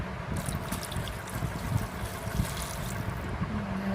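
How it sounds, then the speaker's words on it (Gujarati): Water poured into an eggplant curry cooking in a pan, a steady close trickle and bubbling liquid sound running through the whole stretch without talk. "હવે આપણે પાણી નાખી દઈએ"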